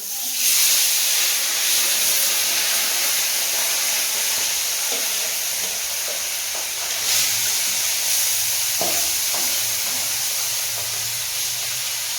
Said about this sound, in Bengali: বাটা মাছগুলো প্রথমে ভেজে নেবো